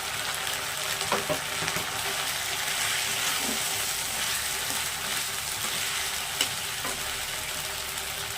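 Tomatoes frying in a pan with onion and ginger-garlic paste for chicken biryani, a steady close sizzle with occasional stirring clinks, no voices.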